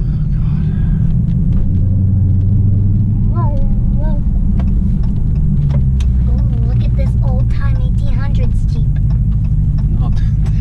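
Inside a Dodge Challenger Hellcat, a deep, continuous engine rumble fills the cabin while people talk over it.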